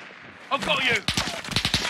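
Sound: gunfire from the video game Call of Duty Warzone

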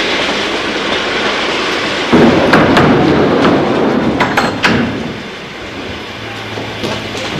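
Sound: passenger train arriving at a station platform

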